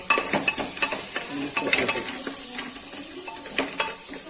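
A spoon stirs chicken curry masala in a pressure cooker pan, with soft sizzling and frying hiss beneath repeated scraping and clinking against the metal.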